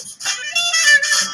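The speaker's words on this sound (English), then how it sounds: "it works so well with that little saxophone or whatever it was" A short saxophone riff in a video soundtrack, a quick bright phrase of a few notes, clear and close with no talking.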